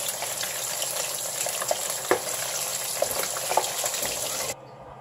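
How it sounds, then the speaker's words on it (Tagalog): Pork pieces frying in hot oil for sisig, a steady close crackling sizzle with scattered pops and spatters, continuing until it cuts off abruptly near the end, no talking. "Pag mainit na po, pwede na po natin ilagay yung yung pork natin."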